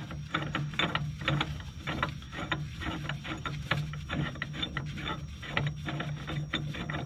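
A threaded bushing press tool being screwed on during body mount bushing replacement on a 2004 Range Rover HSE L322 4.4L, making a steady close rubbing, scraping rasp with faint repeated clicks under a low background hum.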